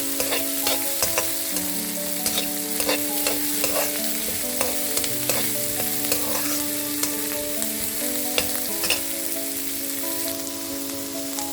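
Onions fry in hot oil in a pan with a constant sizzle for peas chitranna, broken by frequent clinks and scrapes of a spoon stirring against the pan.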